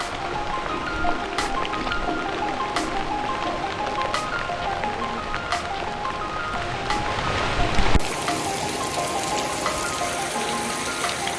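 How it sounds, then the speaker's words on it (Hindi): Heavy rain pours steadily on a waterfall trek in Bali, a dense, continuous hiss and patter close by with a rushing water wash underneath, unbroken across the clip and without talk. "बहुत ख़तरनाक बारिश हो रही है इस पर बाहर"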